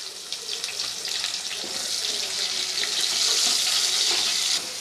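Chopped onions sizzle steadily in hot oil while being fried for beef masala, a dense, bright hissing crackle that swells slightly and continues without pause, close and fairly loud.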